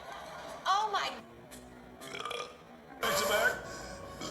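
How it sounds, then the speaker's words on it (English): Several loud, croaking burps from a man, close to the microphone, coming in separate bursts with quieter gaps between them. "That burp hurts."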